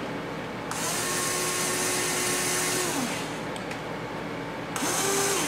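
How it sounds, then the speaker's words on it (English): A power drill bores into wood on a Caddy 340 frame build, whirring loudly in two bursts with a brief pause between them, its motor pitch shifting as it starts and stops. "drill about a quarter inch or a quarter inch into the wood"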